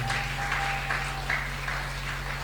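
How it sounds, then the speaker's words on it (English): An audience at a church or community gathering claps steadily for a woman about to give a testimony, a moderate, continuous patter of hands filling the room, with no talk. "Let's clap for her now."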